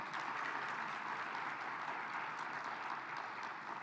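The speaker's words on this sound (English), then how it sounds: "that deserves a bigger round of applause than that." A conference audience at an event on women championing nuclear energy in Africa claps together in a brief, even burst of applause, heard somewhat distant and with no talking over it.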